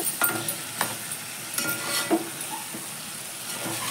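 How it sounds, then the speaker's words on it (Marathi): Potato and eggplant pieces sautéing in hot oil for a Maharashtrian shak bhaji, a continuous sizzle broken by repeated spatula scrapes and light clinks against the pan. No voices. "तेलामध्ये आता हे असे आपण परतून घेऊया भाज्या"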